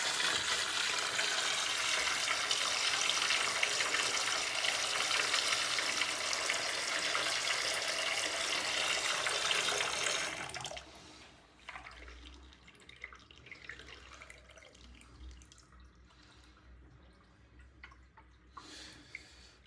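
Water gushes steadily from a stiff-handled hot tap into a sink for about ten seconds, a loud broad rush that stops abruptly, leaving faint drips and small clatters in a quiet room.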